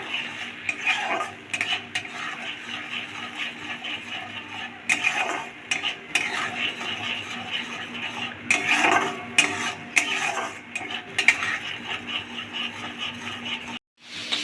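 Turmeric, sugar and spices are stirred and sautéed in a pan for a fish-head moong dal, with a spoon scraping and clinking against the metal in irregular bursts over a faint sizzle.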